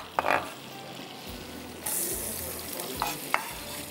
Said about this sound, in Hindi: प्याज हमने डाल दिया, थोड़ा सा इसको करेंगे फ्राई और स्लो फ्लेम पे।